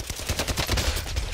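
Rapid bursts of gunfire from Call of Duty Warzone fill the clip, a dense run of sharp, evenly spaced shots firing continuously at close range with no talk over them.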